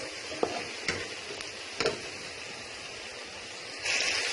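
Okra for achari bhindi fries in a pan and is stirred, a soft steady sizzle broken by a few light scraping clicks of the utensil against the pan, close and moderately quiet, with no talking.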